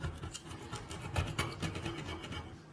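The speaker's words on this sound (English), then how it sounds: "I'm gonna scrape it with my scraper" A scraper rasping crud off a wet porcelain bathroom sink, quiet rough scratching strokes in an irregular rhythm, close by with no talking.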